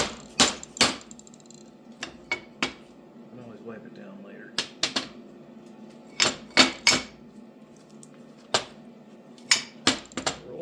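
Sharp metallic hammer strikes on snow plow truck parts ring out close by, in scattered groups of two or three blows with quiet gaps between.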